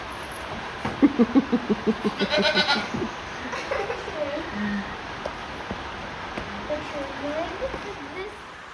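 Toggenburg goats bleat outdoors in the heat, a rapid run of close, wavering bleats followed by scattered fainter calls, with people talking and a vehicle in the background.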